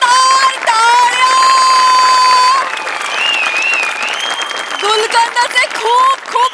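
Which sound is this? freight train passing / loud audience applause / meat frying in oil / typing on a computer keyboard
loud audience applause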